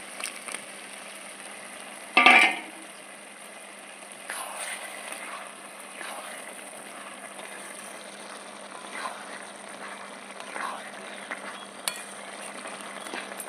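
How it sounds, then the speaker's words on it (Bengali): Fried lentil dumplings (bori) land in a pan of simmering bottle gourd curry with a brief, sharp clatter, followed by a steady soft sizzle and occasional stirring sounds throughout. "ভেজে রাখা বড়ি দিয়ে দিচ্ছি।"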